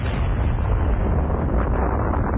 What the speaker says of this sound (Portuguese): provocando uma explosão de proporções nunca vistas